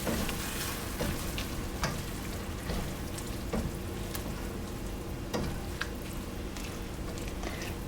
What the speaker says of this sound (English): Give another stir.